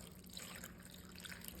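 Two cups of chicken broth being poured over sausage in a kitchen, a faint, steady liquid trickle and splash heard close up.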